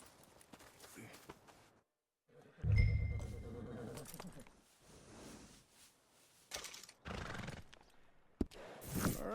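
A workhorse whinnies in Red Dead Redemption 2, a loud rising neigh followed by snorting and hoof clops on the ground, with quieter bursts of movement after.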